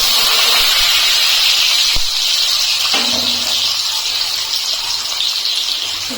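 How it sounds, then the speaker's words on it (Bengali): Potato pieces fry in hot oil with whole cardamom, cinnamon and cloves for a cabbage dish, giving a steady, loud sizzling hiss throughout, with a couple of brief knocks from the pan early on. "আলুটা দিয়ে দিলাম, আলুটা একটু এখন ভেজে নেব।"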